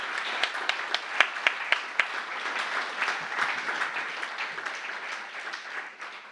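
Audience applause at a TouchDesigner event in Berlin, steady moderate clapping with a few sharper nearby claps standing out, tapering off at the end with no talking.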